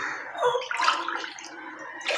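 Water poured from a glass into a pot for rice kanji, heard as a close, splashing, gurgling pour that surges twice and pauses briefly before a final short splash.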